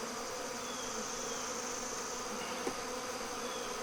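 Honeybees buzz at an open beehive during an inspection, a dense continuous hum close by with no voices.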